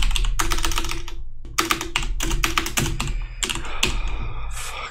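Rapid bursts of typing on a computer keyboard during a typing test, loud and close, with quick clacking runs separated by brief pauses over a low background hum.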